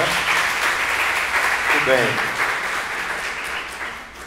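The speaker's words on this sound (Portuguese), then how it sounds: "Eu queria uma salva de palmas aí para o pessoal das feiras agroecológicas" An audience at a talk on solidarity economy networks in João Pessoa applauds the organizers of the agroecological fairs. Sustained clapping carries throughout, and a voice briefly speaks over it midway.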